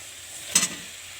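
Fried potatoes tip into a pan of soybean curry, setting off one short burst of sizzle over a low, steady background hiss.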